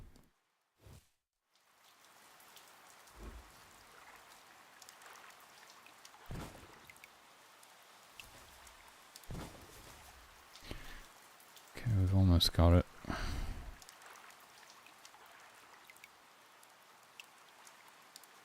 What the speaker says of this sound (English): Sounds like a light drizzle.